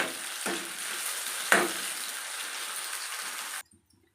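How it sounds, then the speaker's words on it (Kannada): Onion and tomato sizzling in a hot pan for a chicken methi dry, a steady close frying hiss with two brief stirring scrapes, cutting off abruptly at the end. "ಇವಾಗ ನಾನು ಸ್ವಲ್ಪ ಟೊಮೆಟೊ ಹಾಕೋತೀನಿ"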